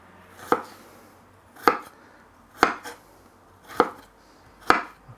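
Knife slicing through peeled ginger on a cutting board, five sharp, evenly spaced chops about a second apart, close and clear with quiet pauses between strokes.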